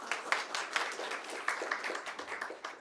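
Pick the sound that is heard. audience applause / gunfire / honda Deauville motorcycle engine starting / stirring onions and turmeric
audience applause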